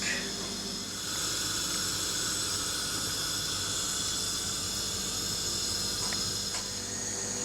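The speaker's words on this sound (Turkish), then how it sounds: "Şimdi reçel olarak kaynatmaya başladık." Hawthorn jam boiling in a pot on the stove, a steady close hiss and bubbling simmer that runs continuously at an even level throughout.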